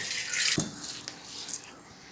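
Washed pearl millet has its rinse water poured off, giving a soft, steady watery splash and trickle with a brief heavier gush early on, fairly quiet and close.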